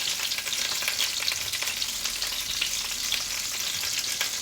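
Thick sausages sizzle and fry steadily in a pan, a continuous close hiss at an even level with no talking.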